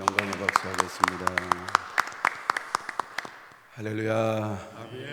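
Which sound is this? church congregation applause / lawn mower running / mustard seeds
church congregation applause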